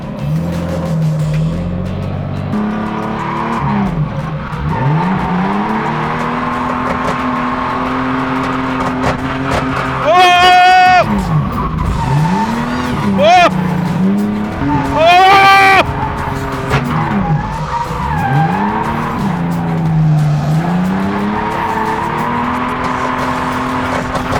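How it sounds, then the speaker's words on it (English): A Ford AU Falcon doing a burnout, its rear tyre spinning and squealing over a loud, steady engine roar, with a few sharp squeal bursts rising above it while people talk nearby. "She's blazing off the back tire."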